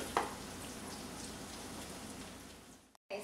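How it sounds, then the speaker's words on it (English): Sofrito potato pancakes sizzle and crackle in hot oil in a pan, a steady close hiss with a small pop near the start before it cuts off abruptly. "make sure that oil is hot. Run on over and throw it in the pan"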